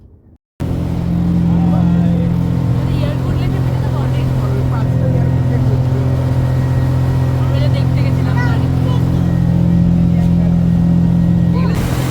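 Motorboat cruising on a lake, a loud steady engine drone with constant hum close by, starting abruptly after a brief quiet moment and running unbroken, with faint voices mixed underneath.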